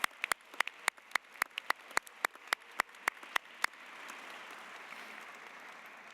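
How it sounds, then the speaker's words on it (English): An audience at a postdoctoral graduation ceremony claps. It starts as sharp, scattered claps close by and builds into steady, continuous applause from the crowd. "could give a round of applause now for our graduating class of 2025"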